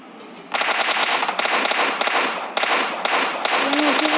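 Rapid bursts of automatic gunfire in PUBG Mobile Lite, loud and continuous with brief breaks between volleys.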